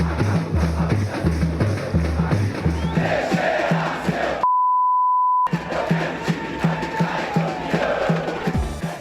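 A carnival football crowd chants in protest against the club's president and board, a loud sustained mass of voices in rhythmic chanting, briefly cut by a steady beep.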